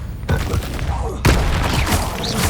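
An Incendio fire spell cast in Hogwarts Legacy, two loud broadband whooshing bursts of flame, the second stronger and sustained, up close over rumbling combat noise.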